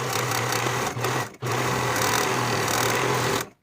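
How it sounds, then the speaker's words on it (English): A sewing machine edge stitches along the folded edge of a shorts pocket, a close steady whirring run that pauses briefly once, then resumes before stopping. "Edge stitch along the folded edge."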